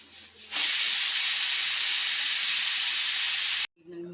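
A pressure cooker cooking mutton curry vents steam in one long, loud, steady hissing whistle lasting about three seconds, cutting off abruptly, with brief quiet before and after.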